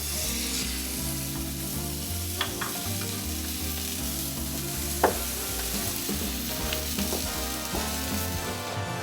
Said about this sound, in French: On va juste lancer la poêle à feu très très vif, il y a un tout petit peu de matière grasse à l'intérieur et on va saisir et bien croûter la viande